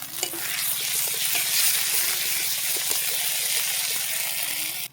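Onion with ginger-garlic paste fries in oil with a bay leaf in a pan, a loud, close, continuous sizzle broken by frequent small spatters and light stirring clicks, no talking.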